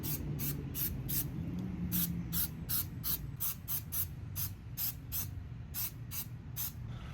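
Tire shine sprayed in a light coat onto a car tire, a run of short, evenly spaced hissing spray bursts, close and clear over a low steady background hum, with no talk.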